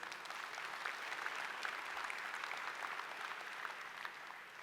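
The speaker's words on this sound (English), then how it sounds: "Let's give another round of applause for the collaboration coming out of Google Cloud Security." Applause from a keynote audience at a technology conference, a broad, even patter of many hands that sounds slightly distant and holds steady before easing off toward the end.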